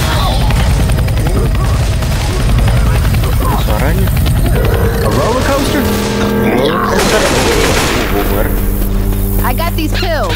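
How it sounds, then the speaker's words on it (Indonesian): A helicopter in the video game Left 4 Dead 2 drones loudly and steadily throughout, with bursts of gunfire and impacts over it while a person talks. "Ada chopper, helikopter."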